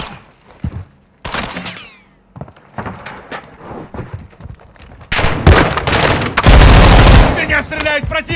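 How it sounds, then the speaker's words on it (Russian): Enemy gunfire in Call of Duty Warzone 2.0 DMZ, heard as repeated sharp bursts and volleys at close range, growing louder and denser toward the end, with some voice-like sounds between the shots. "Стреляет противник!"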